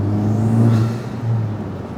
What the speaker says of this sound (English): The Miltech exhaust, I would say it's like a notch or 2 louder.